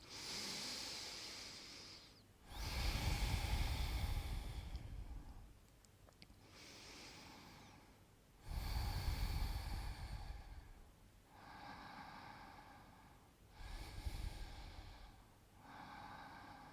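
Slow, deep breaths during a gentle yoga session in Sphinx pose, with three long, airy inhales and softer exhales in a steady rhythm, close and fairly quiet.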